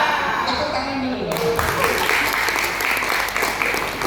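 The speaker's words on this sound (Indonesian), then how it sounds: "Tepuk tangan dulu." An audience at a motivational seminar breaks into steady applause that runs throughout, with a short spoken phrase at the start before the clapping takes over.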